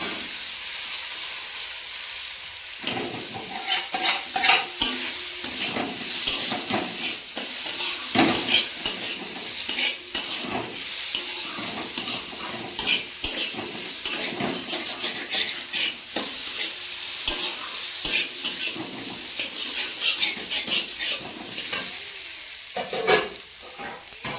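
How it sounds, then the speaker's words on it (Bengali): Fried potatoes with turmeric get stirred in a hot pan, giving a busy hiss of sizzling oil and repeated scraping and clattering of a utensil against the pan, loud and near, with no talk. "হলুদ দেবো, দিয়ে ভেজে রাখা আলুগুলো দিয়ে দেবো।"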